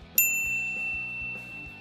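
A notification bell sound effect: a single bright, clear ding that strikes sharply and rings out with a long, fading metallic tone over a faint, quiet rhythmic background.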